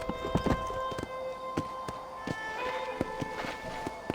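Horse hooves clip-clop at a steady walk in Red Dead Redemption 2, a string of sharp, close hoofbeats ringing out over a soft musical backdrop with no talk.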